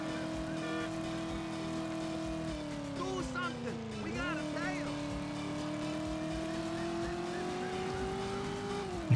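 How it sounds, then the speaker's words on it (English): Racing car engines whine and rise in pitch in the PS1 driving video game Driver, with a brief dip and shift around gear changes, steady and loud beneath a person talking. "It sounds like a NASCAR race."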